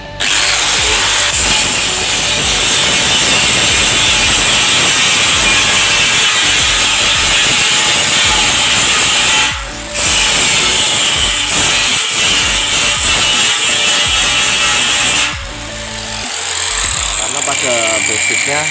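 Angle grinder cutting into steel, a loud continuous close-up grinding whine that drops out briefly twice, with a voice speaking beneath the noise.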